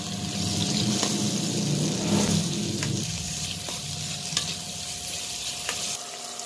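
Onions sizzle and crackle in a hot pan while a utensil scrapes and stirs them, with occasional clinks against the pan.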